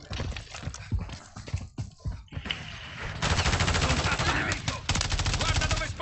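Gunfire in the video game Modern Warfare 3 during online multiplayer, loud rapid automatic bursts and scattered single shots across the clip, with no talking over them.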